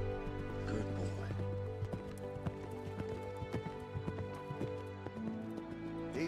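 A horse's hooves clip-clop in a scene from the Western series Godless, with irregular thuds over a steady low hum and a brief whinny-like sound, all fairly near and moderate in volume.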